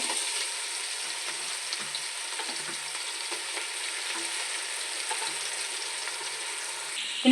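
Onions fry in oil with a continuous, bright crackling sizzle, fairly close and steady from start to finish, with no talking.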